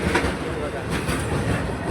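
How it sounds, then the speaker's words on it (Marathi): A train passes nearby in Thane with a steady, loud rumble and rhythmic clatter of wheels on rails, continuous throughout the short stretch. "गेली ट्रेन."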